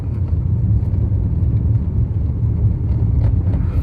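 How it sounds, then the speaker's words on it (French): A BMW E46 running on E85 fuel with Pulstar spark plugs and a hydrogen kit, in drive under gentle throttle, gives a steady low engine rumble from inside the car that holds even throughout, with no talk. "Là, je suis en D et j'accélère juste à peine"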